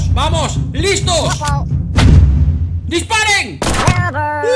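A single heavy, booming gunshot blast rings out in the Wild West shooter game Shooter Gunslinger, surrounded by excited shouting voices.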